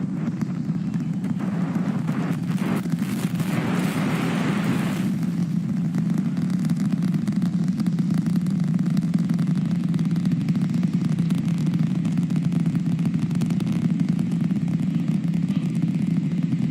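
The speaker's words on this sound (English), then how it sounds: "The rumbles are still building here in the Raptor's nest." SpaceX Starship Super Heavy booster's 33 Raptor engines on the fourth flight test from Texas roar in a continuous, loud, deep rumble that holds steady, with crackling bursts briefly rising in the middle.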